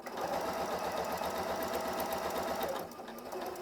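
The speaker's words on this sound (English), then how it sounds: "I'll slow down as I get towards the end because I want to stop with the needle in the fabric about 1 stitch away." A Janome M8 sewing machine stitches through quilt fabric in a steady, fast mechanical rhythm close by, slowing slightly near the end.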